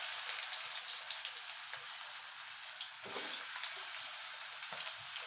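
Potatoes hitting hot oil over a tempering of kalonji and green chilli, a soft steady sizzle with a brief louder crackle midway, fairly faint and close, no talk.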